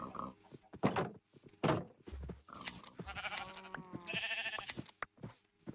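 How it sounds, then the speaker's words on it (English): Sheep bleating in Minecraft, several short nasal bleats heard at moderate distance with brief gaps between them and no talk over them. "There's sheep there, sheep here"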